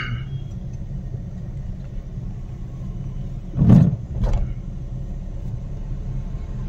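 A car engine rumbles steadily from inside the vehicle during a driving lesson, with two brief revving surges as it speeds up midway, then it settles back to a low hum.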